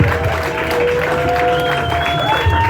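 A comedy club audience applauds comedian Tim Lovett at the end of his stand-up set, with a dense burst of clapping mixed with voices and whoops.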